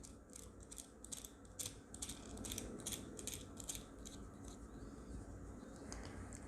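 A nut and washer are tightened beneath a telescope's altazimuth mount, producing a steady run of close, evenly spaced ratcheting clicks with no talk.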